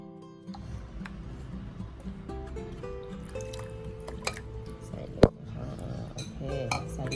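Water is slowly trickled into fresh flour dough for kuichai chive dumplings while it is kneaded by hand. Faint drips and wet squishing mix with occasional clinks of a bowl and utensils, and one sharp knock stands out.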